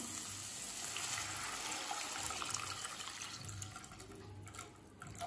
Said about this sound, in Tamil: இப்போ 3 கப் தண்ணி சேர்த்துக்கலாம்